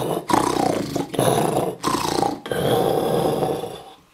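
A voice imitates a wild boar's snoring with loud, rough grunting snores in three or four drawn-out bursts separated by brief breaths, close and alone.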